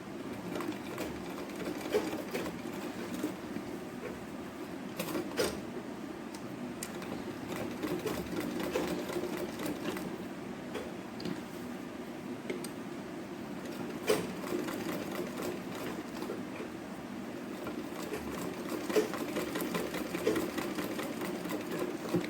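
A sewing machine runs continuously while double-stitching a pattu pavadai, a steady close mechanical hum with faint intermittent ticks and occasional soft bird coos in the background.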